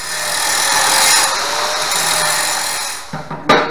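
Angle grinder with a hard rock wheel beveling a tack-welded thin drive shaft pipe before TIG welding, a loud steady grinding whine that runs continuously for about three seconds, then cuts out and gives way to short scrapes.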